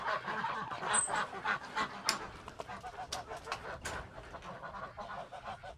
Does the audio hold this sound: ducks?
yes